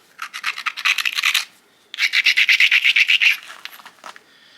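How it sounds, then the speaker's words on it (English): A primitive stone tool is rubbed with rapid rasping strokes to smooth its sharp spots, two close bursts of scraping about a second apart, then a brief scratch near the end, with no voices. "Smooth out any potentially sharp spots."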